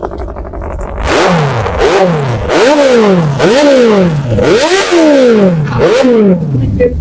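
A secondhand motorcycle with dual-channel ABS at a used bike showroom near Kolkata, its engine loud and close, blipped in repeated rising-and-falling revs about once a second, with a brief voice at the start.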